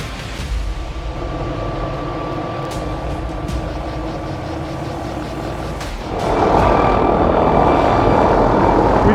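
A helicopter in New Zealand hunting country drones loudly and continuously nearby, its rotor noise swelling and growing brighter toward the end as it moves to retrieve a shot chamois.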